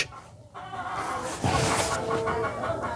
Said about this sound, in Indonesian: Ayam, oh malah berisik gitu.